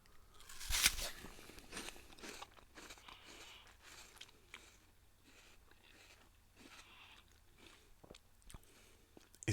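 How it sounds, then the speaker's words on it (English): Crisp bites and crunchy chewing of a fresh apple, a sharp loud bite near the start followed by repeated softer crunches and chewing, close up and quiet otherwise, with no talking. "You can't have an apple without that apple biting sound."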